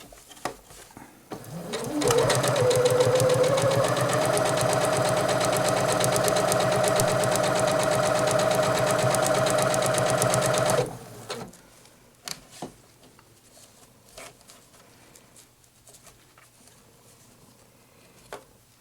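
A Janome 8077 sewing machine runs fabric through in one continuous, rapid mechanical stitching burst lasting several seconds, close and loud, then stops and leaves quiet handling clicks and rustles.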